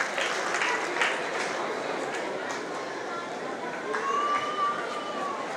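Continuous crowd applause fills the hall at an award and youth talent honour ceremony, a dense steady clatter of many hands that swells slightly near the end.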